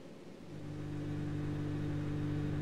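A car engine in the Need for Speed racing game holds a steady mid-pitched drone that swells gradually as it accelerates, running alone without any talk.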